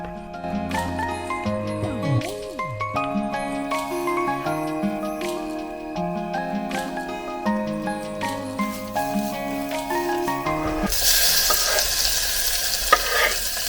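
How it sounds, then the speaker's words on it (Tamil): Onions and curry leaves sizzle and get stirred in a pan, entering near the end as a loud, close frying hiss after a long stretch of music. "வெங்காயம் கருவேப்பிலை அதிலே வந்து சேர்த்துடலாம்."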